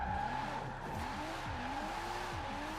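A Nissan Skyline R34 drifts in Forza Horizon 4 as its tires squeal in repeated sweeping arcs over a steady engine drone, moderately quiet with no talk.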